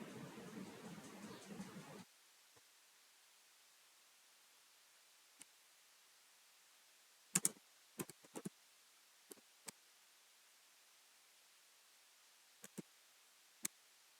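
Sparse keystrokes tapped on a computer keyboard while entering turtle graphics commands, short isolated clicks in small clusters against near silence after a brief stretch of background noise at the start.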